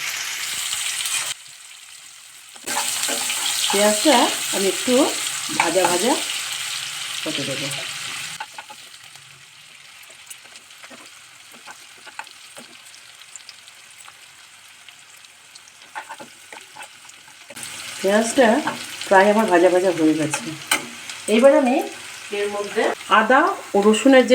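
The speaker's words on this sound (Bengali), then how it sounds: "এবার আমি এর মধ্যে কুচনো পেঁয়াজটা দিয়ে দেবো যেটা একটু বড় করে কেটে রেখেছিলাম" Chopped onion hitting tempered oil and frying with a steady sizzle, interrupted by gaps and stirring scrapes, close and fairly loud, with stretches of quieter hiss and no speech.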